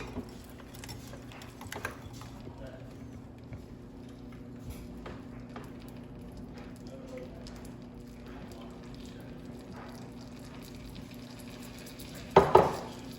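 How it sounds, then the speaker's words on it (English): A spoon scrapes and stirs an egg-and-milk custard in a pot, faint and steady against a low background hum, with a brief clatter near the end. "really careful to stay with it and stir it continuously"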